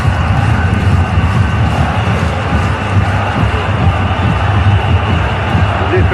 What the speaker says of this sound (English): Listen to the crowd now.